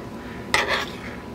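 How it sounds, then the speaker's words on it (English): A single quick scrape and clink of a spoon against a dish while scooping juicy strawberries, then a brief soft wet slide, close up and alone. "So we'll spoon out some strawberries."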